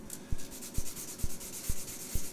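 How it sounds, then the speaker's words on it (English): Rough-grit abrasive rubbing against the bottom of a shaving brush knot in short, regular strokes, about five scratchy passes with brief pauses between them, close and fairly quiet, with no talking. "I'll just give this bottom of this knot a little sanding"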